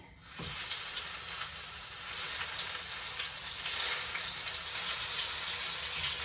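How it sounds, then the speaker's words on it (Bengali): Eggplant goes into hot oil and sizzles loudly at once, a dense, steady frying hiss that continues without a break and with no voices. "তেল দিয়ে দিয়েছি, তেলটা গরম হয়ে গেছে। এখন বেগুনটা আগে ভাজা নেই।"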